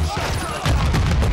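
Rapid gunfire from a close-quarters shooter video game rattles loudly and continuously, thickening into a dense burst of shots partway through while a voice talks over the chaos.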